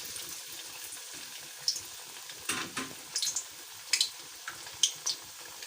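A piece of fish for Lahori fish fry lowered into hot oil in a kadai gives a steady close hiss with scattered crackles and a few sharp spattering pops, with no voices.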